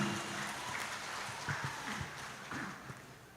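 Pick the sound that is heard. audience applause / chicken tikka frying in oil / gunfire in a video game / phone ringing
audience applause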